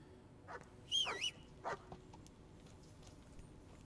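A dog in the video game Kingdom Come: Deliverance gives a few short, soft whimpers and yips close by, with quiet ambient background between them.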